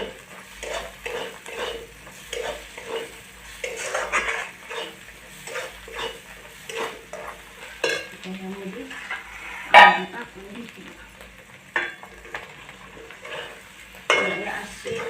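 Egg curry in a village-style spicy preparation sizzles and fries in a pan while being stirred, with steady scraping and clinking of a utensil over continuous frying hiss and occasional louder knocks against the pan.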